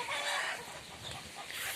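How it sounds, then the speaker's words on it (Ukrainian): Chickens squawk and cackle in a noisy, continuous outburst, somewhat distant and blended together. "Щось кури розкричались,"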